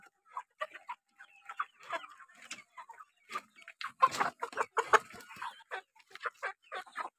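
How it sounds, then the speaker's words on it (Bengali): Chickens on a poultry farm of a few hundred birds make soft, scattered clucks and chirps, faint and irregular, with no talk over them. "এখানে না হলেও 250-300 মুরগি আছে"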